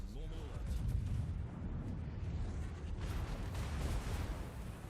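Naval guns firing salvos in a warship video game, heavy low rumbling booms rolling continuously with a fresh blast near the end, under someone talking.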